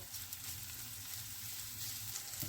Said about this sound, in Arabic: في طاسة على النار احط شوية زيت او شوية سمنة واحط بصلاية مفرومة